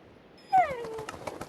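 A Minecraft dog gives a short, close whimpering yelp that rises then falls, followed by faint soft ambient noise.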